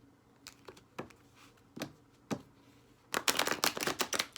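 Tarot cards being shuffled: a few separate soft riffles and snaps, then a quicker, louder burst of dense card flutters near the end, with no talking.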